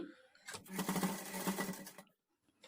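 A sewing machine runs a stitching burst along a blouse side seam, a rapid rattling whir of needle strokes lasting about a second and a half before stopping, with a faint click after.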